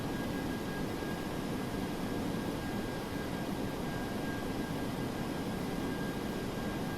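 Steady, dense roar of a DC-8-73F's jet engines under thrust in the FSX flight simulator, a constant broadband rush with a faint high whine and no voices.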